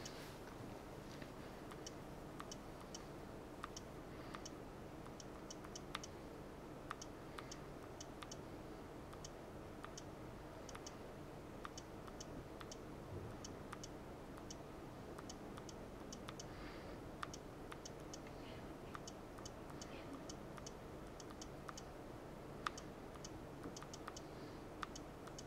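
Light, rapid stylus taps on the touchscreen keyboard of a Palm Pilot 5000, irregular clicks continuing steadily throughout over a faint background hiss, with no talking.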